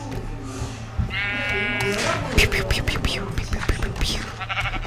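Minecraft sheep on a Mineplex arcade server give a clear wavering bleat, followed by a busy spill of clicks, pops and game effects, with a person talking over the action.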